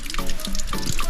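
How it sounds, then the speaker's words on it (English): Water running from a bamboo spout at Bath Fountain in St Thomas, a close, bright splashing and trickling with irregular drips, steady throughout and with no voices. "See little water run out here"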